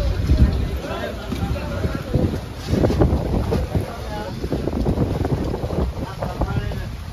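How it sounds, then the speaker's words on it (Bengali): Strong wind and heavy rain during a storm on a trip from Dhaka to Brahmanbaria, a loud rushing, buffeting roar with gusts battering the microphone continuously, with people talking underneath. "প্রচুর পরিমাণে বাতাস আর বৃষ্টি, এমন পরিমাণে বাতাস আর বৃষ্টি শুরু হয়েছে যা বলার মতো না।"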